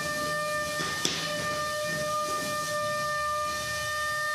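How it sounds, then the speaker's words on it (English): A high, sustained whining tone from a combat robot's drum weapon spinning up at speed, steady and siren-like, with a sharp impact near the start. "You can hear that drum spinning up even faster."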